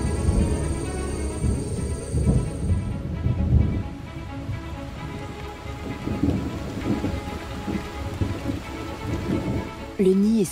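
Heavy rain in the Peruvian Amazon rainforest pours down steadily during a storm in a dense, hissing wash, with low rumbles of thunder rolling underneath.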